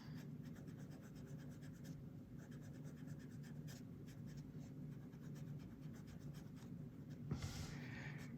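Soft, continuous scratchy rubbing as PanPastel is blended across paper, faint and close, with small strokes and a slightly louder brush of movement near the end.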